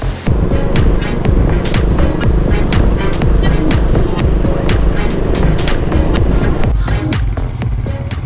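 Motorcycle riding along a road toward Manor Dam near Mumbai, a loud continuous engine drone mixed with heavy wind rush on the microphone, steady throughout with a slight dip near the end.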